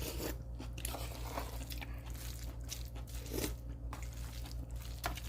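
Close chewing and biting of food, soft crunchy and squishy mouth sounds repeating over a steady background hum, with no talking.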